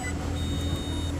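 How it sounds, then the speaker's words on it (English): Faint steady electronic beeping from a hidden tracker attached under a Nissan car, a thin high tone sitting over low engine or garage rumble. "Well, you hear this beeping, right?"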